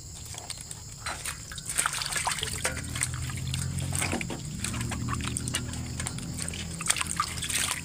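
Water trickles and sloshes as rice is rinsed in a pot, a continuous close dribble with small splashes and no voices.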